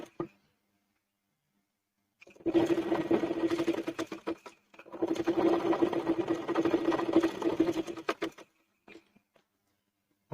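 Sewing machine stitching the sleeve of a girl's frock, running in two steady bursts of about two and six seconds with a pause between, close and fairly loud, followed by faint handling sounds.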